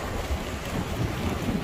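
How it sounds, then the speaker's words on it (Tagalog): Strong rainy wind blows on the north coast of Taiwan at Yehliu, buffeting the microphone in a continuous rough roar. "Grabe, lakas ng hangin."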